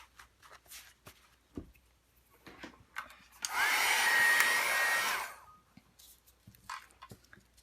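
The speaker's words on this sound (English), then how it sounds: "And then you can take your heat tool" A heat tool blows hot air for drying in a steady, loud whoosh lasting about a second and a half, set between quiet handling and brushing noises.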